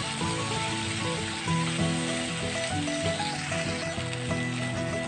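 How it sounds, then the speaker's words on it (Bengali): A paste of ground sesame, peanut and coconut stirred into a frying pan of pointed gourd, giving a steady close sizzle under continuous scraping and clattering of the spoon, with faint tonal background sounds. "তিল, বাদাম আর নারকেলের পেস্ট করে রেখেছিলাম সেটা পুরোটা দিয়ে দিচ্ছি। দিয়ে ভালো করে আমি মিশিয়ে নেব।"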